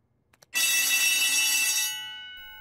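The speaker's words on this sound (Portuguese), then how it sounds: "Já ouvimos o alarme" A loud, piercing electronic school fire alarm rings continuously for over a second in a cartoon, then cuts off, leaving a fading echo in a quiet room.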